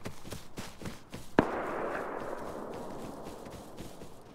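A single sharp gunshot in a video game cracks out partway through, its echo tailing off into a noisy wash, after a run of softer footstep-like taps.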